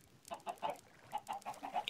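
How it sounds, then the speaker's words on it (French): Minecraft chickens make quick, soft clicking pecks in short irregular bursts, faint and close with no talk over them. "c'est les poulets qui cliquent, enfin qui c'est oui, c'est le bec des poulets."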